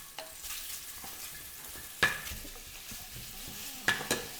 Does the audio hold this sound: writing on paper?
no